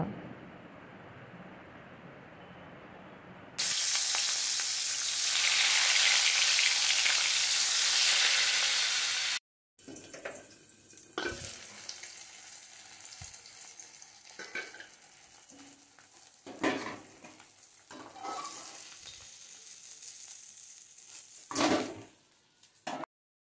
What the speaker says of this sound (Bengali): তেলটা বেশ একটু গরম হয়ে গেলেই আমি এখানে মাছগুলো দেখো দিয়ে ভেজে নেব।